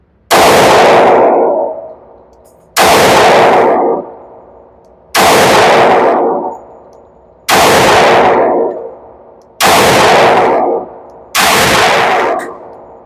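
Sig Sauer P365 AXG Legion pistol fired at a range target: six loud, sharp single shots spaced roughly two seconds apart, each with a ringing echoing tail.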